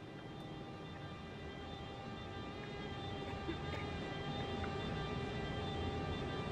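A steady rumbling drone of an S-Bahn S1 electric train running toward Schöna in Train Simulator 2021, with a constant motor whine and wheel noise that grows slightly louder midway, no voices.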